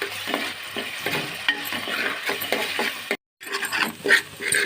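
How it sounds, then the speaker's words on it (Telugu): Onion paste fries in hot oil for a fish curry, giving a steady close sizzle with rhythmic spatula strokes. A brief cut of silence falls near the end before the frying resumes. "ఆయిల్ కాగింది. ఉల్లిపాయ పేస్ట్ వేసేసుకున్నాం."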